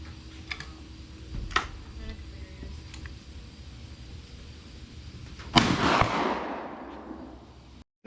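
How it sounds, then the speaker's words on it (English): A 12 gauge slug and a 30-30 rifle fired at a steel bulldozer blade outdoors: a few faint clicks and small pops early, then one loud gunshot with a long rolling echo that fades over two seconds. "We're going to start off with a 12 gauge slug and the 30-30."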